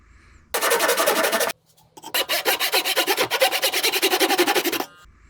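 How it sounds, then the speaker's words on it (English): A hand saw cuts the shoulders of a wooden tenon joint in rhythmic rasping strokes, with a short burst, a pause, then a longer run of quick, even back-and-forth strokes, close and clear. "Here you can see me cutting the shoulders of the tenon."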